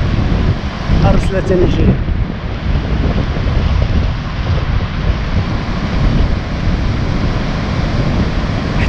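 Rough sea waves crash and wind buffets the shore near the Hassan II Mosque and marina, a loud, constant roar of surf and wind noise with a voice speaking briefly over it.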